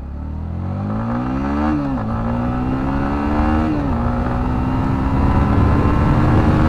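Close, loud engine of a Yamaha MT 15 V2 motorcycle revving, with two rising throttle pulls that each cut back sharply, then settling into a steady high drone under wind-like rumble.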